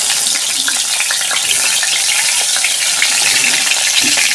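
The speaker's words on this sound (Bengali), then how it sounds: "তেল গরম হয়ে গেছে, পটল দিয়ে দিয়েছি" Pointed gourd pieces rubbed with salt and turmeric sizzle steadily in hot oil, a dense, loud, continuous crackle with no voices.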